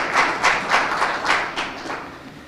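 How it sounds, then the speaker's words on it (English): Audience applause at a World Contraception Day conference session, a moderate burst of clapping that swells in loose pulses and gradually tapers off, heard from within the hall with no voices over it. "Another applause. Better one."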